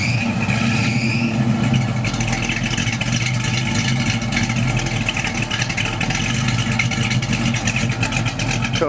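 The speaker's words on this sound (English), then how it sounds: "Can you keep the revs on it for me?" A car engine held at steady high revs, a loud continuous mechanical drone with little variation, close by and without talk.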